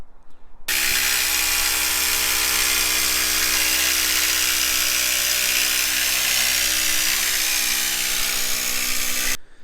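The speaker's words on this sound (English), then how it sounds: "So just gone over the bumper with a load of sanding" A power sander works over a fiberglass bumper for a Ford Escort RS Turbo, a steady high-pitched whirring drone that starts abruptly, runs evenly for about nine seconds, then cuts off.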